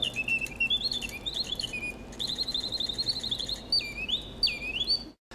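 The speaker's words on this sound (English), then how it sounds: "It's a pop-up singing bird that you move the little lever to the side." A pop-up singing bird automaton, bought in Paris, runs its clockwork birdsong: a continuous stream of high, warbling whistles and chirps that swoop up and down for about five seconds before stopping abruptly, with no voices.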